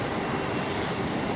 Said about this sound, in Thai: เครื่องบินที่ขึ้นเนาะ